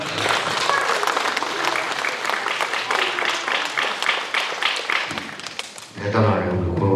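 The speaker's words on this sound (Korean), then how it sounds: "우리 시장님께 큰 박수 좀 보내주시죠." Audience at a town meeting with the mayor of Sejong applauding warmly, a sustained dense wash of clapping from a crowd for several seconds, then tapering as murmuring voices and talk take over.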